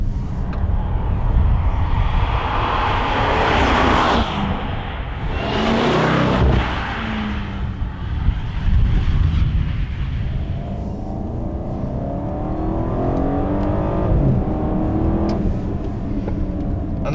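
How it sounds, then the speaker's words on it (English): An Alpina B7 luxury sedan accelerates with real engine and exhaust sound, a loud sustained roar rising through revs with gear changes and deep rumble, heard close for a long stretch with whooshing wind and road noise. "So what you hear is real stuff from the exhaust and from the engine."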